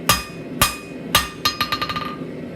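A hammer rings on steel while a taper is forged for a campfire tool stand: three heavy, spaced blows, then a quicker run of about six lighter strikes, each with a bright metallic ring and no talk.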